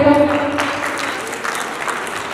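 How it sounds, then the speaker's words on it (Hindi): Parents applauding together at a school orientation program, a steady wash of clapping filling the short stretch with some voices mixed in. "जिन्होंने हाथ खड़े किए उनके लिए तालियां बजाएं।"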